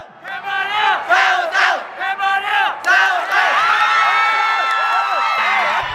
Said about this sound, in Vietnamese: cổ động viên hai đội diễn tả rõ nét qua những đợt reo hò cùng từng điểm số